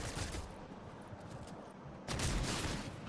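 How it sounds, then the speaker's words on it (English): Video game gunfire in a firefight, a rapid crackling volley at the start, quieter scattered shots through the middle, then a louder dense burst after two seconds, with no talk. "You could be getting shot from everywhere."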